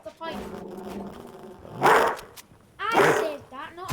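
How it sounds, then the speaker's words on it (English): A dog barking in the background of a home while a Fortnite game plays, with two loud barks and some yelps among people talking. "There's a dog in the background."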